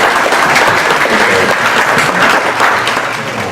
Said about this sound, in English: give a round of applause to Wipro for supporting us and blessing us here tonight